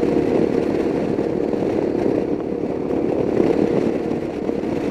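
Heavily modified Royal Enfield Himalayan dirt bike engine droning steadily while riding at speed, a continuous loud rumble with wind noise and no talking.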